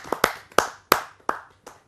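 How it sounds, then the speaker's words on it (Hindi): A few sparse, uneven hand claps from a Hindi poetry gathering audience ring out in a loose rhythm, sounding like a small scattered round of applause rather than a full crowd. "आइए सदन की एक जोरदार तालियों से मैं आमंत्रित करता हूं"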